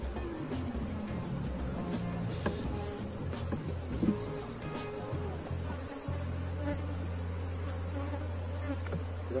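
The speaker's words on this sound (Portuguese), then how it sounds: "Só que enxame populoso" A populous swarm of honeybees buzzes steadily and close throughout, a dense continuous hum during handling of a hive box, with a few brief knocks and shifts in tone.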